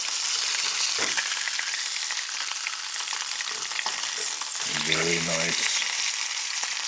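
Short ribs searing on a wood-fired kitchen stove give a steady, close hiss of frying fat, with a brief low clatter of handling in the middle.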